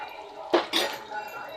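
Crushed garlic and curry leaves are stirred in a pan, with a short burst of utensil clinks and scraping against the pan over a faint background.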